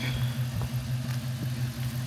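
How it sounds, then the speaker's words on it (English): Dodge Magnum with a newly fitted exhaust, a low steady engine drone heard while driving, fairly quiet and constant with slight wavering. "y'all can hear the exhaust while it's driving"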